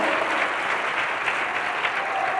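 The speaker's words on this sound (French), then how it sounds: "Célébrele dándole palmas a Dios." A church congregation applauds together, a full, steady burst of clapping from many hands filling the space.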